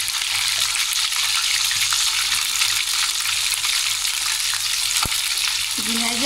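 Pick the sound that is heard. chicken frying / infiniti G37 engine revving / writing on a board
chicken frying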